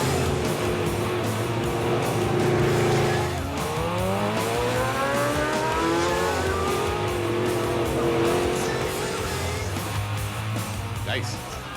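Engine roar of a 1959-era American classic car with a V8, rising and falling in pitch as it revs and passes close by, with street noise and a voice talking over it.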